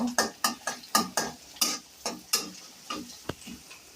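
A spice and chopped onion tempering fries in a pan for a bottle gourd and lentil dish, heard as a string of rhythmic scraping stir strokes over a soft sizzle, close and fairly quiet with no talking.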